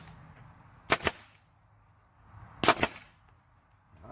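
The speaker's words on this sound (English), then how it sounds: "go ahead and shoot us some brads in there" A brad nailer drives brads into scrap lumber while a mountain wall decor is assembled. Two sharp, loud pneumatic snaps land about two seconds apart, each a quick double crack, with quiet workshop room tone between them.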